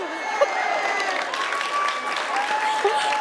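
At a book event for Leigh Bardugo's Hell Bent, audience clapping forms a soft continuous patter under a spoken question and background crowd noise, with a few louder claps standing out.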